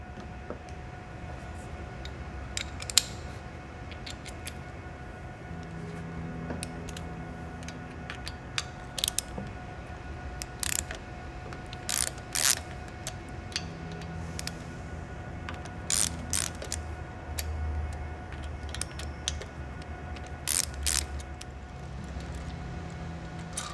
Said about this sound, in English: we can go ahead and take our torque socket, T45, and we can remove those bolts